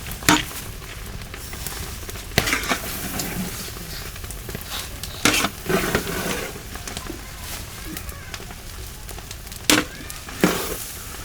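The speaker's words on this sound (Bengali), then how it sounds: "সুন্দর মতো চাউল ভেজে রান্না করা হচ্ছে" Rice sizzling and frying in a pot, with repeated scraping clatters of a spoon stirring it, irregular bursts over a steady crackle.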